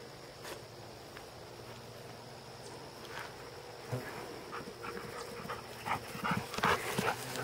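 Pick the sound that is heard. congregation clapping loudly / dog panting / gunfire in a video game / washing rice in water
dog panting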